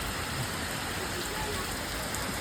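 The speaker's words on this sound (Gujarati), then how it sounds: "વરસાદ છે ને ધીમે ધીમે ચાલુ થઈ ગયા" Rain falls steadily in a village in Botad, Gujarat, in a dense, even hiss of drops on surfaces, unbroken and fairly soft, with no talking.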